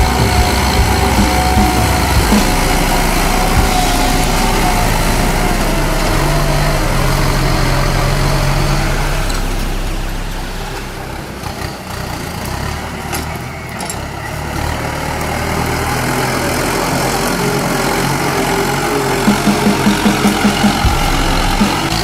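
A Kubota M8540 80 hp tractor ploughs with a 5-disc plough, its diesel engine droning loudly and steadily, easing off briefly midway before returning to a heavy working rumble.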